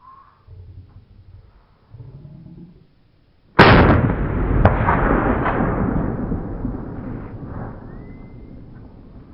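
A Remington 870 SPS Super Mag shotgun fires a single 3-inch turkey load outdoors, one sharp loud blast with a long rolling echo decaying over several seconds, after brief quiet voices beforehand.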